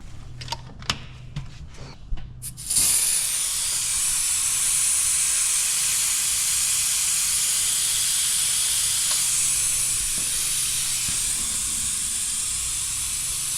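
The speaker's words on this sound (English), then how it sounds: "So I'm just going to flick the power off, drain the tank out, get all the moisture out of the tank" Air compressor tank being drained of moisture: a few clicks and knocks, then a sudden loud, close hiss of escaping air that holds steady for about ten seconds with no talking.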